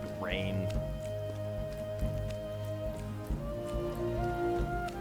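Steady rainfall in Expeditions: Viking, an even patter blended with sustained background music and a brief bird-like chirp near the start.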